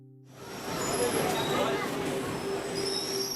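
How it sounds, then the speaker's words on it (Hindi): A Mumbai local train rumbles steadily along with high metallic squeals from the wheels, building up after a brief quiet start and staying loud throughout. "मुंबई की लोकल ट्रेन"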